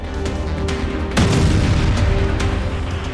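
A rocket fired from Lebanon explodes outside a five-storey building, caught on a street security camera: a sudden heavy boom about a second in, followed by rumbling debris and lingering roar, with smaller thuds before and after.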